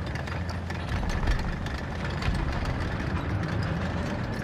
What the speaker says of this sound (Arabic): طبعا انا اميز الروسي بمحركات عن الالماني وعن الامريكي.